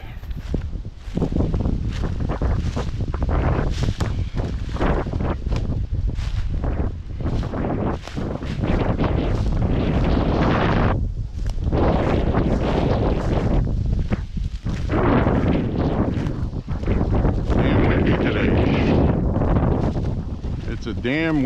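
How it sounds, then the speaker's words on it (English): Strong wind buffets the microphone during an outdoor walk near a dam, a loud continuous roar with gusting surges that fades briefly in places before rising again. "It's a damn windy day to go look at a damn dam."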